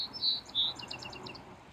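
A song sparrow gives a short, high song: two clear opening notes followed by a quick series of buzzy, raspy trills. It is close and fairly faint over a quiet outdoor background.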